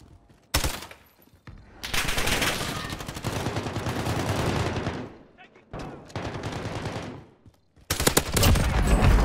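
Bursts of rapid automatic gunfire in Call of Duty Warzone, loud close volleys separated by short pauses, with talk in between.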